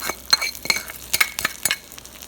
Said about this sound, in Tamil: இப்போ நம்ம மிக்ஸ் பண்ணி வச்சுருந்த சாதத்தில் தாளிச்சதை ஊற்றிடலாம்